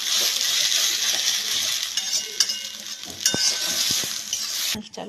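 Fried radish is tipped out of a hot pan to cool, with a bright, constant sizzling hiss and a few sharp metallic clinks and scrapes near the end.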